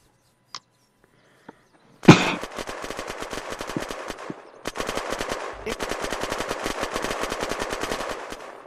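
Gunfire in the Unturned video game: two lone shots, then long rapid automatic bursts with a brief pause in the middle, loud and close, with no talk.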